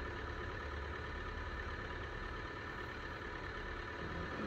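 A flight simulator's airplane engine drones at idle, a steady, dense low rumble with a slightly rough, choking texture that holds evenly throughout with no talk over it.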